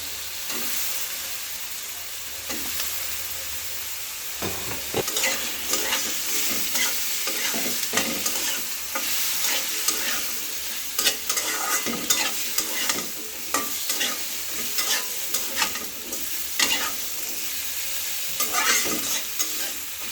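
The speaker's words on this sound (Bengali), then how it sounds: "এবার মাছগুলো আলুগুলো ভালো করে ভেজে নেব" Fish pieces and potatoes fry in a pan with a dense, continuous close sizzle, dotted with frequent sharp pops and spatter plus occasional utensil scrapes, no talking.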